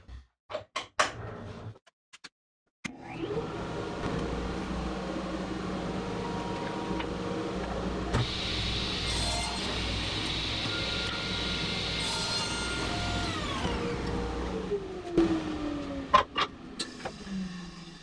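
A table saw cross cuts a length of door wood. After a few knocks and a brief pause the motor spins up into a loud, sustained whine that stays even for about twelve seconds, then winds down with some clatter at the end.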